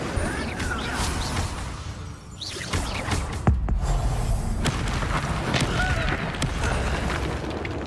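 A fire spell cast in a video game bursts out in repeated booming, crackling blasts, with one sharp hit partway through and a steady roar of in-game noise throughout.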